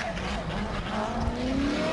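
A competition drift car at the British Drift Championship at Lydden Hill starts an early drift, engine roaring steadily with a sustained tyre squeal rising through the two seconds, loud and continuous.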